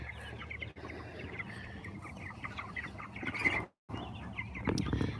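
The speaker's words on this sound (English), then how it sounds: "Try not to scare the hens here." Hens in a coop in freezing weather cluck and murmur softly nearby, a busy overlapping chatter of short calls with occasional louder squawks and rustling.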